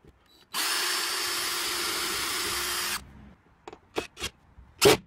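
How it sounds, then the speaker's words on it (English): A power drill whirs steadily for a couple of seconds, drilling floor boards into battens in a Mercedes Sprinter van, then stops, followed by a few short knocks and clatters. "then we'll drill, countersink and screw the boards to the battens"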